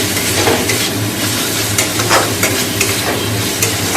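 A spice paste for fish sizzles and fries in a pan while a spoon stirs it steadily, with loud, continuous crackling and repeated scraping strokes up close.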